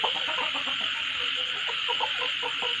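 Chickens cluck in short repeated bursts over a constant high-pitched hum, nearby and steady throughout.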